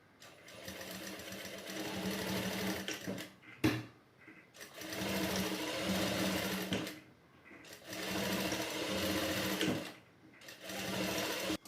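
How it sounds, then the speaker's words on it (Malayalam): Sewing machine stitching the two ends of an elastic band together, running in long steady whirring bursts with brief pauses between them, close and alone without talk. "ഫസ്റ്റ് ഇലാസ്റ്റിക് ഇതേപോലെ കൂട്ടി യോജിപ്പിച്ചൊന്ന് സ്റ്റിച്ച് ചെയ്തെടുക്കണം"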